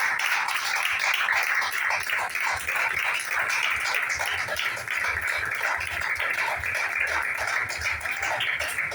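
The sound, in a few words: church congregation clapping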